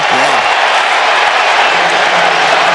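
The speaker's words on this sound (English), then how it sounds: "And the crowd again wants a call" Stadium crowd noise at an NFL football game, a steady, loud, broadband roar of thousands of fans that holds throughout without a break, with faint voices mixed in underneath.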